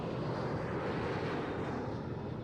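An airplane in the Fate/Zero anime gives a steady, loud engine roar that fills the whole stretch without a break, heard alone with no speech.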